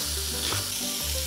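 Pork sears in a pot, giving a steady, loud sizzle and crackle of hot fat that holds throughout, with a faint low hum underneath.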